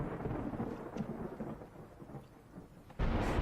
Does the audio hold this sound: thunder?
yes